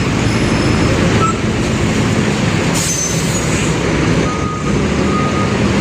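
A new garbage truck at a squatter-area dump terminal moves in with a loud, steady rumble while its reversing alarm beeps repeatedly, close and continuous.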